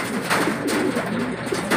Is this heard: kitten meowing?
no